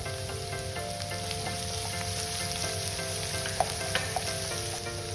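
Crushed ginger frying in a pan for Kerala-style beef ularthu, a steady close sizzle with light stirring scrapes and a few small pops, with no talk over it.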